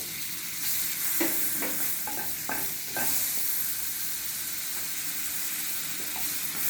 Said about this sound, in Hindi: और अब हम इसमें ये मक्खन जो आधा बचा था इसको डालेंगे हम।